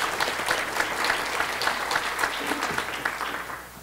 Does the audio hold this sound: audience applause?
yes